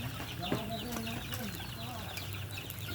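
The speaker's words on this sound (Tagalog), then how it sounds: "Daghang kayog manok guys ba." Several chickens cluck in bursts at close range on a rural yard, with scattered bird calls over a steady outdoor background and no talking.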